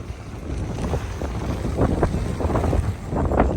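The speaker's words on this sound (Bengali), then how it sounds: "প্রচন্ড হাওয়া প্রচন্ড হাওয়া" Strong wind roars and buffets against the microphone in uneven gusts, with no voices present.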